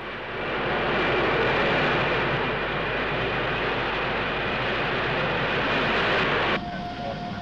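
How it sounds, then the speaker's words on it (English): Concorde jet engines roar steadily as the aircraft accelerates toward transonic speed, a loud continuous broadband rumble that drops abruptly in level near the end. "Concorde begins acceleration into transonic speed."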